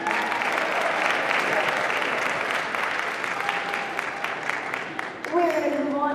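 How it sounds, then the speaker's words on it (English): A school band concert audience applauds the soloists in a sustained wash of clapping, with a speaking voice and a musical tone coming in near the end. "you can stand while you take your applause"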